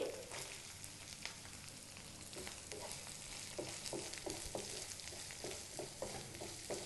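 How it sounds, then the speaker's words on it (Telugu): Chopped onions and green chilies frying in a hot pan for a tomato curry, a steady dense sizzle with repeated scraping stirs of a spatula, close and continuous without talking. "ఈ ఆనియన్స్ పచ్చిమిర్చి ఇవంతా కూడా కొంచెం లైట్ బ్రౌన్ కలర్ వచ్చేంత వరకు మనం వీటిని వేయించుకోవాలి"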